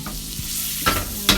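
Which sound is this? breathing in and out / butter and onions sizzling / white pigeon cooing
butter and onions sizzling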